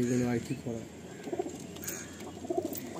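Giribaj pigeons coo in soft, repeated throaty bursts nearby, the cooing rising and fading in short phrases amid faint background noise.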